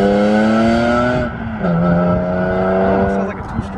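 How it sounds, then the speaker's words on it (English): A tuned Volkswagen Golf R engine at an autocross event revs with a buzzy, high-pitched two-stroke-like whine that rises and falls in pitch, loud and close, with people talking over it. "Sounds like a two-stroke."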